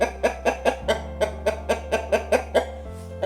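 A large, handsome rooster clucks in a quick, even series of about a dozen close, loud clucks, with no talking over it.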